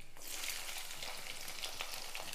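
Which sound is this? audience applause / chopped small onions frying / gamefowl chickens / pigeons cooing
chopped small onions frying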